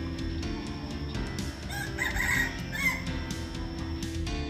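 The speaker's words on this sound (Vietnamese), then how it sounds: "Ở bên đây có một chú gà trống này cả nhà ơi." A rooster crows once at moderate distance, its drawn-out cock-a-doodle-doo standing over a steady outdoor backdrop with a constant hum and no talk.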